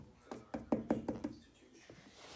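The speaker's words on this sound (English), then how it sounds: "I can knock over here." Five quick knocks on a door in a steady run, fairly close and moderately loud, followed by a softer thump and quiet room tone.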